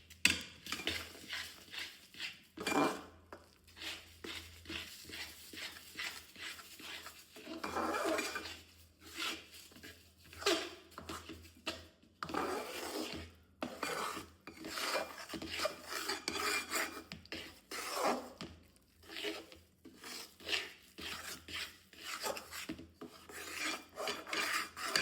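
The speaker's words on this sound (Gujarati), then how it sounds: "આપણે નીચે ઉતારીને સારી રીતે તાવેતા વડે હલાવીશું." A spatula scrapes and stirs a thick bajra flour sukhadi mixture in a pan off the heat, making steady rasping strokes in an uneven rhythm with occasional metallic clinks, close and alone with no talk.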